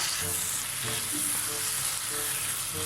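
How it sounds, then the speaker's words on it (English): Bitter melon prawn sambal fries in a pan with a dense, constant sizzle, close and steady, while it is stirred, with faint scraping under the hiss. "Give it a stir"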